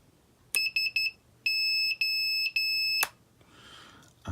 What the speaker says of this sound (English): beeper